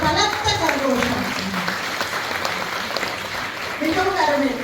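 A concert audience in Dortmund gives loud, sustained applause for parents, a dense steady clapping throughout with a voice speaking over it at the start and end.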